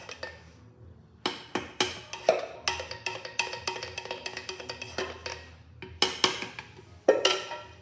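Epoxy hardener is scraped out into a resin container for a kitchen floor coating, with a run of close, sharp clinks and taps coming in quick irregular bursts, some louder strikes standing out against a quiet background.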